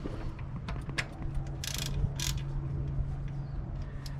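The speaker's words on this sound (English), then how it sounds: "I'm going to be removing my drain plug with a 3/8 ratchet" A 3/8 ratchet clicks rapidly while loosening the transmission drain plug on a 2009 Honda Civic, close and crisp, with a couple of brief metallic scrapes amid the clicking.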